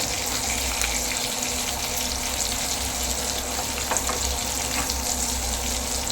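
Fish for a Kerala-style fry crackles in a hot pan, a dense, even sizzle that holds at a steady level throughout, close and unbroken.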